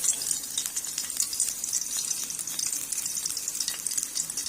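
White cumin seeds sizzle in hot oil in a small spoon for tempering Punjabi kadhi, a steady close crackling hiss with fine popping throughout, no voices.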